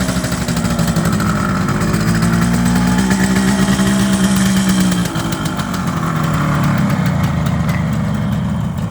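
1978 Kawasaki KH400 two-stroke motorcycle engine idling roughly on only two of its three cylinders after storage, a loud continuous buzzing drone nearby with a wavering pitch and a slight dip midway.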